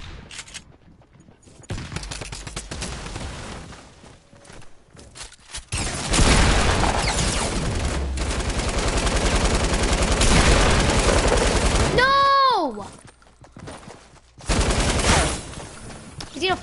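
Sustained automatic fire from a light machine gun in Fortnite, loud dense bursts lasting several seconds with a short pause and brief later burst, amid other game effects.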